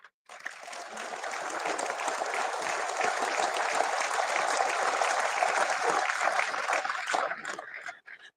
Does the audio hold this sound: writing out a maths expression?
no